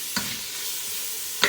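Mutton dropped into a hot pot over a full flame gives a steady, close sizzling hiss, bracketed by two short clatters at the start and end.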